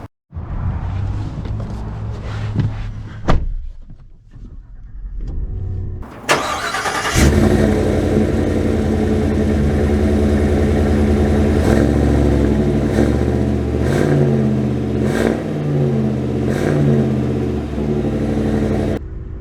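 A 2024 Chevy Silverado HD with a 6.6L gas V8 and 10-speed transmission starts up and settles into a loud, steady engine drone close by, with harmonic tones shifting as it pulls away and accelerates. No one talks.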